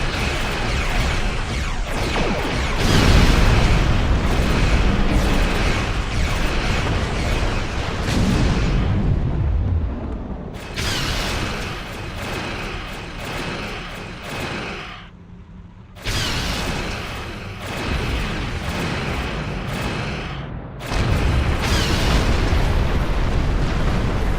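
Space station defensive cannons firing and explosions in the Star Trek Online PC game, with a Klingon campaign battle: sustained booming blasts and rumbling detonations that cut off abruptly several times, loud and dense.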